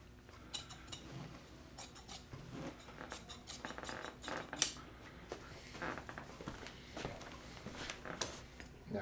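Scissors trimming upholstery material on a Womb Chair being restored: a close, quiet series of irregular snips mixed with soft rustling of fabric, without talk.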